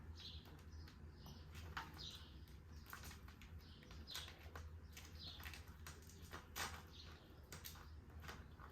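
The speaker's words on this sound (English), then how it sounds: "You can hear the birds chirping and everything." Birds chirp in short, repeated bursts over a steady low outdoor rumble, moderately distant, with scattered clicks and small sounds between calls.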